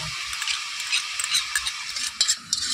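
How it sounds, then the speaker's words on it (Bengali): Sour yogurt being beaten in a bowl, a rapid, light scraping and slapping of utensil against the bowl, steady and close, with no talk over it. "তো টক দইটা এই বাটির মধ্যে ঢেলে আমি একটু ফেটিয়ে নেব।"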